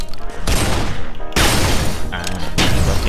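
Loud, heavy shotgun blasts boom in quick succession in the zombie video game Guns Gore and Cannoli, several bursts close together with sharp onsets and a rumbling tail, dense and near.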